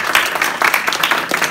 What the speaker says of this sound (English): So applause to you.